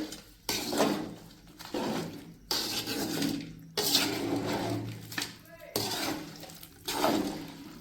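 Water is poured by the litre into a pot of country chicken uppu kari, heard as a series of repeated, close splashing gushes with short gaps, while a voice talks in the background.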